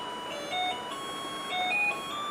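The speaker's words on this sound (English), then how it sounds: "So now the first alarm is on." A faint electronic driver sleep alert alarm plays a simple repeating beeping tune with steady high-pitched tones, heard over low background hiss.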